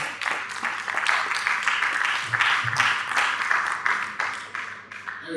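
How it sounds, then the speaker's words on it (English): Conference audience applauding at a space conference in Ghana, a steady wash of clapping from a crowd that swells and dips over a few seconds, with some voices mixed in underneath. "Eric, please round of applause for Eric as it comes."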